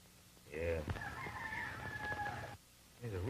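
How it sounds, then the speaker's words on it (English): A rooster crows once in a long, drawn-out call at moderate distance, with voices talking just before and after it. "There's a rooster crowing."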